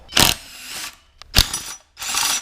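A hand ratchet backs out the bolts holding the VANOS unit on a BMW M54 inline-six from an E46 turbo build, in three quick bursts of close, crisp metallic clicking separated by short pauses.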